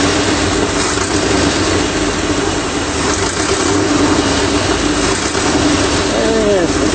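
A 1981 Ford E-250 van engine with carburetor problems runs outdoors close by, a steady, loud idle drone that stays even for the whole stretch, with no talk over it.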